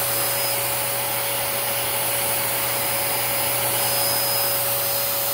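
A Dyson DC17 vacuum cleaner runs with a steady, loud motor whine and airy hiss that leaks from around the motor area, holding constant and close with no speech.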